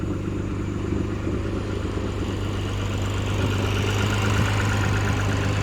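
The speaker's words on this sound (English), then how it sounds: "I know the car sounds a little bit weird. There is an exhaust leak right here" A Lexus engine idles steadily with a rough, uneven exhaust rumble and rattle from exhaust leaks on both sides, continuous and close, with no voices.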